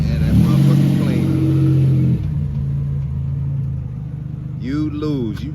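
A Buick Grand National turbo car accelerates hard, its engine rising in a loud, near roar, then easing into a steadier rumble. A voice speaks over it near the end.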